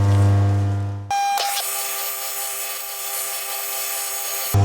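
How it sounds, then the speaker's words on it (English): A 13/64 inch (5.159 mm) drill bit grinding into metal, a harsh steady whine after a low motor hum, continuing evenly without speech. "So the drill going in now is a"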